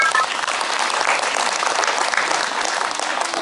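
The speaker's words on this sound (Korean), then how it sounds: "박수로 환영하세요." Audience applause at a live music performance, a dense, loud, continuous clapping from a crowd sustained through the whole short stretch with no talk over it.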